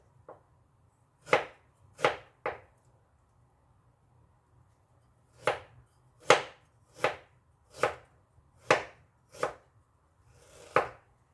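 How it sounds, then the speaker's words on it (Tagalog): A knife cuts ginger into thin slices on a board: about a dozen crisp, separate chops in two irregular runs with a pause between, close and clear. "Para hindi siya balansa, lalagyan ng luya. At iiwain siya ng manipis."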